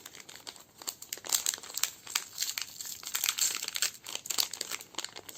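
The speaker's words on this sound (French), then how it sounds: "Je me mets à déchirer tout." Packaging for cross-stitch haul supplies being torn and crumpled open by hand, a steady run of close, dry crinkling and ripping bursts with no voices.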